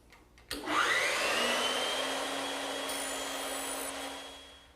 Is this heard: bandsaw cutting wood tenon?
yes